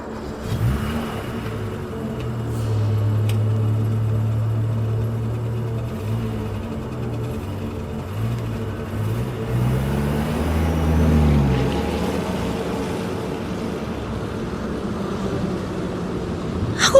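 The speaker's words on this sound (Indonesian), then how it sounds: "langsung menjalankan mobilku bergegas untuk segera pulang" A car pulls away at night, its engine droning and rising through gear changes in a long, smooth run, then settling into a steady cruising hum with no speech.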